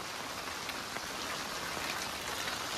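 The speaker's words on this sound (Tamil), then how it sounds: "இந்த மாதிரி ஒரு மழையை நான் பார்த்ததே இல்லப்பா." Heavy rain pours steadily during a cyclone in Tirunelveli, a dense unbroken hiss of downpour on surfaces with scattered droplet patter, close and constant with no voices.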